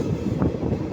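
The Rangiya Express electric train runs at speed, giving a brief, steady, dense rumble with no talking over it.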